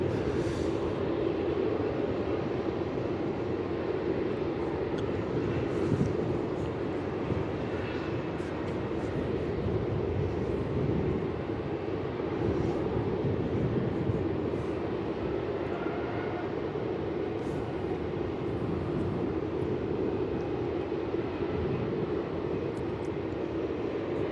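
Royal Brunei airliner on downwind for runway 34 at Melbourne Airport: a continuous, distant jet-engine rumble holds steady throughout with no other distinct sounds.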